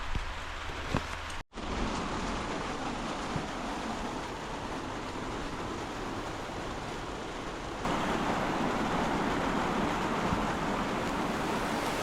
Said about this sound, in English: Ah, bloody raining again.